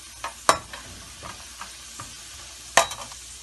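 Whole garam masala spices frying in oil in a pan for Andey Aloo, a soft steady sizzle punctuated by a few sharp clinks and scrapes of a stirring spoon, two of them loud.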